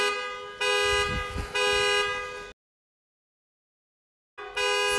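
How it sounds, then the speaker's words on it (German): Car alarm blaring in loud harmonic bursts, two long blasts separated by a short dip, then about two seconds of silence before it starts again near the end. "Junge, mach das Auto auf! Ich muss die Alarmanlage ausschalten!"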